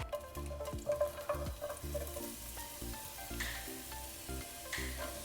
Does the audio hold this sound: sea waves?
no